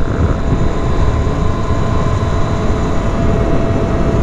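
Riding a Talaria Sting R MX4 electric motorbike at night, a loud continuous whir and rush of wind and road noise with no breaks.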